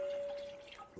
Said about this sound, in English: We're going to add some water in here.